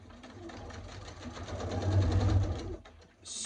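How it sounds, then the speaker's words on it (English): A sewing machine runs steadily while stitching fabric pieces with a narrow seam, its fast mechanical whir and needle rhythm building louder toward the middle before stopping abruptly, followed by a faint click. "We are going to start sewing our pieces."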